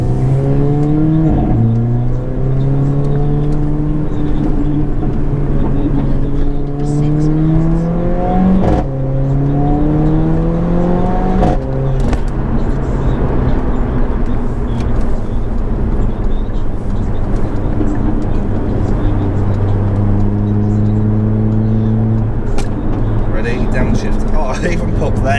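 Mercedes A45 AMG with its exhaust resonator removed accelerates hard onto a carriageway, the engine note climbing loudly and steadily through several gear changes, close and continuous with only brief dips between shifts.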